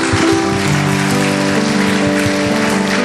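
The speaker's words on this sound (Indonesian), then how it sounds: "Berikan tepuk tangan yang meriah" Lively applause from guests at a Christian wedding ceremony, a thick rain-like wash of many clapping hands, loud and unbroken, blended with sustained background music.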